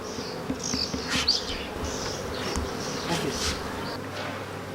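Honey bees buzz busily at an open hive during frame handling, a dense, steady drone with individual bees whining past close by, fairly quiet, no talking.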